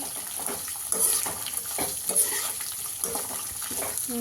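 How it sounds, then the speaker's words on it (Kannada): Ingredients for mango chithranna fry in a pan with a soft, uneven sizzle, punctuated by scraping and light clinks as they are stirred, and no one speaks. "ಇದು ಕೂಡ ರಷ್ಟು ಕಲರ್ ಬರೋ ಗಂಟ ಹಿಂಗೆ ಹುರಿದಂದ್ರೆ ನೋಡಿರಿ ಈಗ ಅಷ್ಟು ಫ್ರೈ ಮಾಡಬೇಕು"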